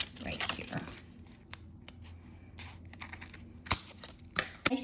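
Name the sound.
cutting off excess paper for a junk journal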